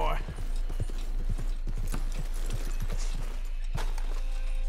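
A frightened horse's hooves clip-clop in an uneven trotting rhythm in Red Dead Redemption 2, with a low steady hum in the background and a brief clank near the end.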